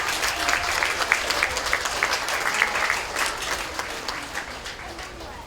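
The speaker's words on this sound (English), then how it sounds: "So let's give these people a good round of applause." Audience applause at a county fair dairy bucket calf show, a close burst of steady clapping from a modest crowd that gradually tapers off toward the end, with some voices underneath.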